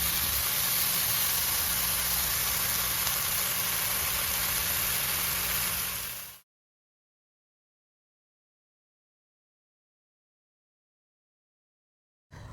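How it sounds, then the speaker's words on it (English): Bacon strips fry in a pan for cookies, giving a steady broadband sizzle and hiss that stays loud and even for about six seconds before cutting to silence, with a faint return at the very end. "So I'm going to fry up a few pieces of bacon"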